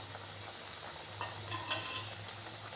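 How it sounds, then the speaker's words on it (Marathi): Samosas frying in oil over a low gas flame give a soft, steady background sizzle with faint bubbling crackles, quiet and continuous with no talking. "आपण असे समोसे तेलात सोडून देऊया आणि गॅसची फ्लेम अगदी कमी आहे"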